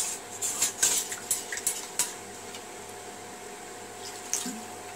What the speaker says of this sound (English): So now add water and bring it to boil.